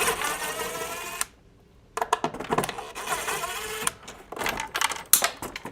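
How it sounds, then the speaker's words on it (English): Screws being backed out of an old sprinkler timer panel mounted on a wall, giving close, busy mechanical whirring and clicking in uneven bursts, with one brief silent gap and no talking. "So I'm gonna take these screws out."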